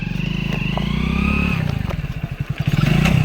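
A motorcycle arrives nearby, its engine putting out a loud, pulsing putter that chugs unevenly as it slows down.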